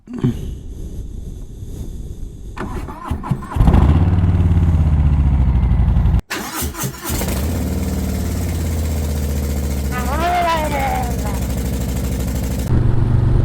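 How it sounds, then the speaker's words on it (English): A motorcycle fitted with leather saddlebags starts up and rides off along a neighborhood road. Its engine rumbles close and loud in a steady, sustained drone, with a brief break partway through before the engine noise resumes. "So let's hop on the bike, get on the road, and we'll talk about it."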